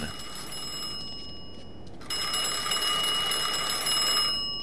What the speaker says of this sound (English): we're about to go and answer that fucking phone